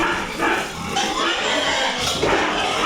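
Pigs grunt and snort repeatedly in a noisy, close setting, irregular bursts overlapping one another with no clear speech.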